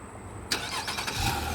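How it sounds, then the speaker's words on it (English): A 2019 Nissan Maxima SV engine cranking and catching on remote start, with an abrupt onset followed by a steady running rumble, heard close and alone. "Car starts right up."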